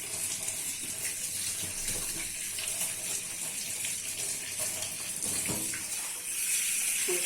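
Tap water runs steadily over items being cleaned, a continuous close hissing gush with small splashy shifts, loudest near the end and with no talk over it.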